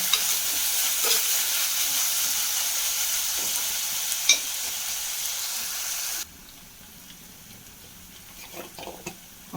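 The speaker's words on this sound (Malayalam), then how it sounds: "ചെറിയുള്ളി രണ്ട് വെളുത്തുള്ളി പച്ചമുളക് ഇഞ്ചി വേപ്പില എല്ലാം കൂടി ഒന്ന് ഒന്ന് വാടി വെച്ച്" Shallots, garlic, green chili, ginger and curry leaves sautéing in a pan for a village-style fish curry, heard as a steady loud sizzle with occasional stirring clinks that drops to a quieter hiss partway through.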